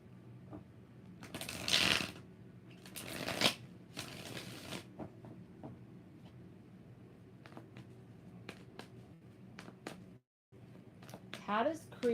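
Tarot cards shuffled in a string of crisp riffling bursts, with softer card handling and occasional snaps between them, a voice talking over parts of it.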